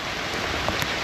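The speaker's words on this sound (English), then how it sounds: "It's pouring with rain and we're about to enter a jungle." Heavy tropical downpour on the way into a jungle near Pak Beng on the Mekong River, a dense, steady hiss of rain close by with a few sharper drops.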